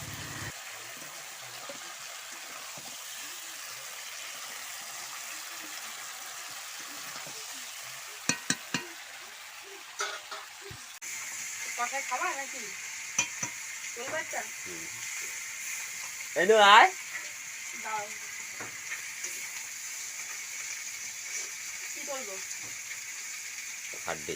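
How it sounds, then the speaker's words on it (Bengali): Desi chicken meat sautés in a pot over a village wood fire, with a steady hiss that grows louder partway through, punctuated by scattered clinks and scrapes of a stirring utensil and a sudden sizzling burst, while a voice speaks intermittently. "তো দেখুন আমি এদিকে কাঠের জালে কষানো নিয়ে বসে পড়েছি। এই যে কষানো চলছে"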